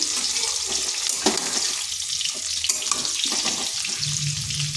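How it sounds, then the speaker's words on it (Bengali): Vegetables frying in oil in a pan until light brown, for a vegetarian potato, pointed gourd and soya chunk curry: a steady, fairly loud sizzle runs throughout, with a few brief scrapes and clinks over it. "এগুলোকে এইভাবে ভেজে নিয়েছি হালকা বাদামি করে।"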